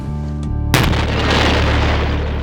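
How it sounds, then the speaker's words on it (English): A sudden loud boom from an explosion inside a room during a MythBusters test cuts through a steady hum, followed by a long rumbling, hissing decay. "There's the explosion."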